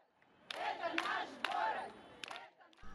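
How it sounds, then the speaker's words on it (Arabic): Women in Minsk chant a protest slogan together in short rhythmic bursts, their voices raised and somewhat distant, with a brief pause between phrases. "ورددت مجموعة من النساء هتاف رئيستنا هي زفيتا"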